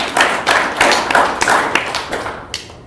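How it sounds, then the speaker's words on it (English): Audience applause at a Drupal conference talk, a room of people clapping in irregular bursts for about two and a half seconds before it thins out and stops. "Give yourself a round of applause"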